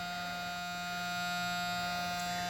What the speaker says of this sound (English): That stupid buzzer.